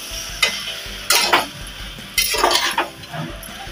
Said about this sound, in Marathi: वाटाणे बटाटे सर्व मसाल्यांमध्ये मी परतून घेतले